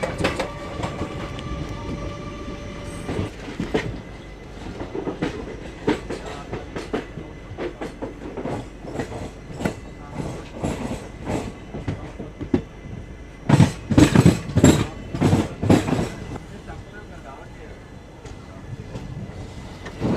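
An Indian express train from Chennai Central to Siliguri rumbles along near Rajahmundry, with loud rhythmic clickety-clack of wheels over rail joints, rattling carriages and occasional squeals, heard from inside the coach without talking.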